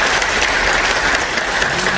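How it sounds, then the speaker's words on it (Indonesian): An indoor audience at a company gathering breaks into steady, loud applause for its leaders, many hands clapping together in a dense, unbroken wash. "Boleh tepuk tangan buat para leader kita."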